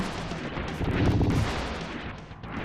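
A gun turret fires in the Super Famicom game Valken (Assault Suits Valken), giving booming retro game blasts that swell into a dense rumbling burst in the middle and then fade, with no voices.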